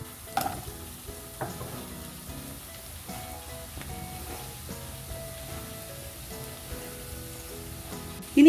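Chopped onions hit hot oil in a pan for beef stew and sizzle steadily, with stirring scrapes and small bumps throughout, loud and close.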